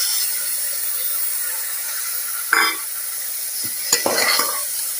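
Chopped vegetables for rava bath fry in a pan with a steady close sizzle, interrupted by a few sharp scrapes and clinks of stirring near the end.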